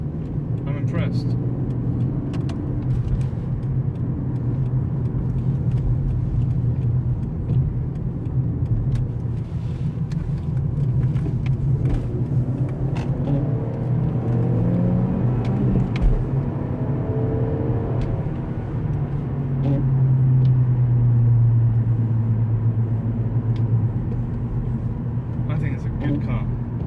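Seat Leon driving through busy traffic, a steady low road and engine rumble with tyre noise held throughout, and people talking over it.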